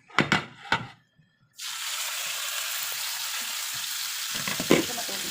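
Pork chop dropped into hot cooking oil in a home kitchen, opening with a few knocks before a loud, steady sizzle that holds for several seconds, with a brief clatter near the end.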